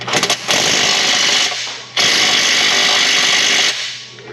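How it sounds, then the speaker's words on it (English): An electric impact wrench hammers on a steering bolt nut of a 2011 Toyota RAV4, with loud close rattling bursts of about a second and a half, a brief pause, then a longer burst that winds down. "Electric wrench on the bottom."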